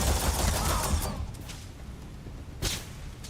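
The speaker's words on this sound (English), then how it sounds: "Who's shooting at me?" Gunfire in the video game Starfield: a loud burst of rapid shots at the start that tails off, followed by one more sharp shot a moment later.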